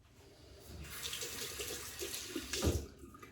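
A double-edge safety razor rinsed under a running tap, with water splashing and gurgling into a sink for a few seconds and swelling briefly near the end, fairly quiet and close.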